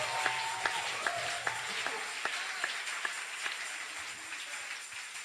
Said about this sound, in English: You can clap your hands and give him glory in the house of God.